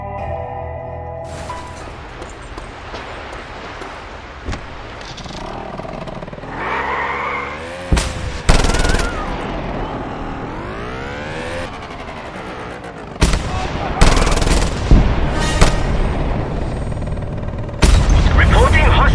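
Heavy cannon gunfire in Just Cause 2, with loud booming blasts at irregular intervals over game engine and vehicle noise, plus a rising mechanical whine partway through.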